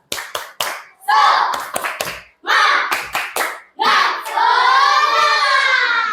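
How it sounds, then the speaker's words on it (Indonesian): A classroom of children performs a rhythmic group clapping routine, sharp bursts of claps in set patterns alternating with chanted voices, ending in a sustained shout. "tepuk semangat"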